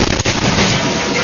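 A portable LPG gas stove explodes, giving a sharp loud bang at the start followed by a dense, roaring burst that fills the rest of the short moment without any talk.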